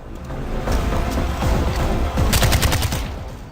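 Gunfire from a weapon in Far Cry 4 comes as dense, rapid bursts of shots, loud and close, running almost without pause over a rumbling background.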